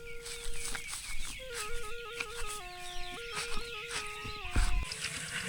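Chickens on a rural Lao farm cluck and chatter steadily at close range, with overlapping calls and a brief louder burst near the end.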